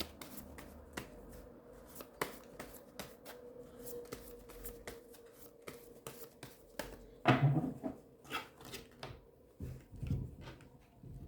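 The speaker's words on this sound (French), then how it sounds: "Et ce n'est pas de la triche, je bats devant vous." Tarot cards are shuffled by hand at close range, a steady series of soft riffling snaps and flutters repeating for about eleven seconds under quiet room tone.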